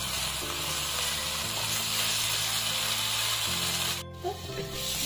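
Chicken pieces frying in a pan over medium-high heat, a steady loud sizzle and hiss throughout with a low hum underneath and a brief dip near the end.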